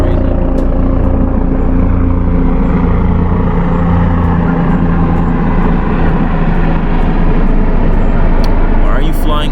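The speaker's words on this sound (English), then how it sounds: "ignoring this helicopter flying mad low for some reason." A loud, steady low rumble of a helicopter passing overhead at close range, droning continuously throughout.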